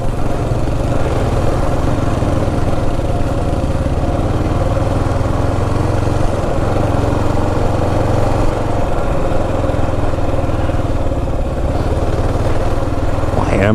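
A Kawasaki KLR 650 motorcycle is ridden off road, its engine a loud, continuous close drone that barely wavers, with wind rush throughout and faint speech mixed in.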